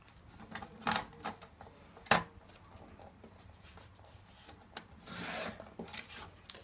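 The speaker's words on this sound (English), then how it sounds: "I'm going to cut it down to probably about 3/4 of an inch." Paper is trimmed down to a narrow strip for a photo box pocket, giving soft rasping, rubbing cutting strokes at close range with a few sharper snaps and one longer scraping pass near the end.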